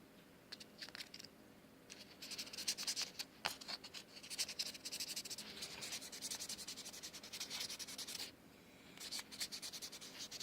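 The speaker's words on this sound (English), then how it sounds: "But you just sand the fire out of it." Sandpaper worked vigorously over a tobacco pipe during restoration, a close, fairly quiet run of dry rasping strokes in uneven bursts with brief pauses, no talking.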